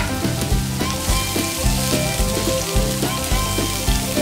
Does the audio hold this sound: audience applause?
no